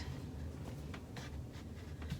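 A marker or pencil scratches short pleat marks onto fabric pieces for a tote bag, a few soft rhythmic strokes, quiet and close with no talking.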